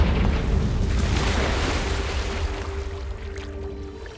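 Explosive Confringo spell blast from the Hogwarts Legacy video game on Switch, a loud broadband boom at the start that rumbles and slowly decays over several seconds, with no talking.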